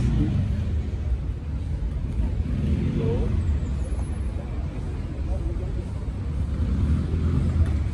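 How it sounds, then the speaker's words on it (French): A Corvette rumbles in with a low, steady engine drone that swells slightly as it approaches, alongside street noise at a busy French square. "C'est une Corvette qui nous arrive dessus."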